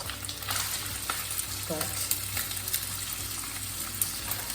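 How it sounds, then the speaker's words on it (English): Red peppers tossed into a hot pan with bacon, giving a steady close sizzle and frying hiss with a few stirring clicks, under a quiet bit of talk. "Now I'm just going to throw in the red peppers."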